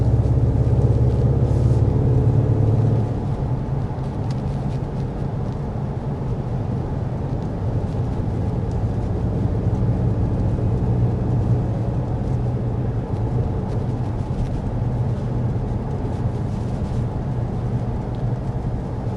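Steady low road rumble and broadband hum fill a 2024 Acura RDX cabin at 55 miles per hour, continuous and even throughout, with no talking.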